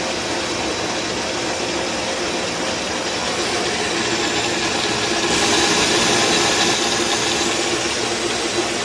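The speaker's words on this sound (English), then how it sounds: "we're just facing this off, and the suck pump is working overtime here" A metal lathe faces off a workpiece while a suction pump roars steadily alongside, a loud continuous machine drone with a slight rise in the higher hiss partway through.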